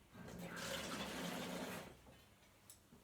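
Water running into a milk bottle to rinse it out while cooking, a steady splashing rush for under two seconds, then quieter kitchen clatter.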